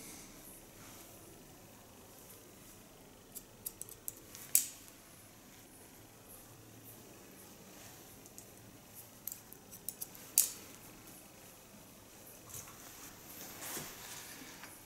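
Scissors snip through an older woman's hair during a haircut, giving a few faint, sparse clicks with long quiet gaps between them in a hushed room.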